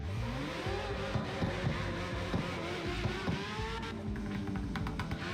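A drift car running street tires in the CarX Street racing game roars through a drift, its engine revving and surging at close range with repeated throttle blips and gear changes, loud and without speech.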